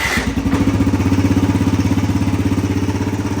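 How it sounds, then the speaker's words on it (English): A Suzuki dirt bike fires up from cold without throttle or choke, then settles into a loud, steady, rapidly pulsing single-cylinder idle right by the microphone. "We're gonna get a cold start on this thing after 2 oil changes and some bullshit."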